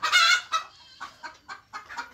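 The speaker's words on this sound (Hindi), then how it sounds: "इधर भी है मुर्गे कुछ" Several local desi chickens on a poultry farm cluck nearby in short, uneven bursts, one loud squawk at the start followed by choppy repeated clucks.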